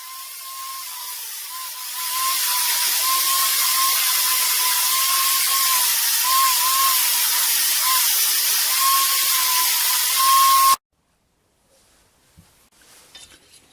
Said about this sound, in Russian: Далее на шлифовальной машине придаем лопастям мягкую обтекаемую форму.